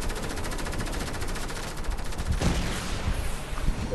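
Rapid automatic gunfire from the Fortnite battle royale video game crackles in dense, continuous bursts for the whole stretch, loud and close with a few heavier shots near the end.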